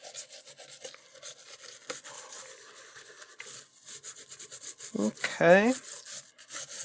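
Scrubbing and cleaning corroded chip sockets on an Applied Engineering Z-RAM Ultra 2 memory board for the Apple //c: a steady, close, dry brushing rasp that keeps going, with a voice talking briefly near the end.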